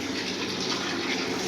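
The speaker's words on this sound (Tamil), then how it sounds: "இதுல புளி தண்ணியும் சேர்க்கிறோம்." Tamarind water pours into a cooking pan, giving a short, steady gushing splash that stays fairly faint and continuous.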